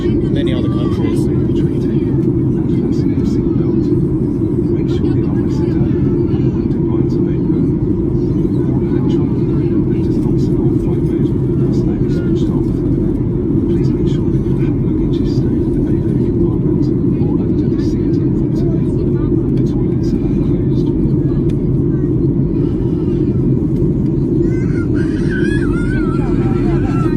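Steady, loud low roar of a Norwegian Boeing 737-8JP with winglets, heard from inside the cabin while cruising from London Gatwick to Stockholm Arlanda, with a faint hint of muffled voices beneath the constant drone.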